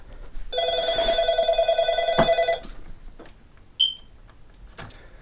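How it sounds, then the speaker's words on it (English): An indoor telephone bell rings in one sustained burst of about two seconds, then stops. A short electronic chirp follows, then near-silence. "Sorry, the phone's ringing."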